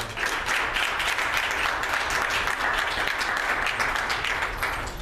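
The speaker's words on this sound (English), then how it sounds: "So if you guys can give her another round of applause." Audience at a Wilberforce University campus event applauding a student author, steady and full clapping from many hands that fills the whole stretch without talk.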